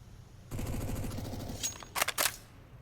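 Mac-10 submachine gun fire in a CS:GO pro match on Mirage, a rapid rattling burst of shots followed by a few louder sharp cracks of gunfire.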